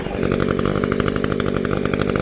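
A gas string trimmer engine, freshly fitted with a new carburetor kit, runs loud and close with a rapid buzzing two-stroke rattle, steady throughout the short stretch with no voices.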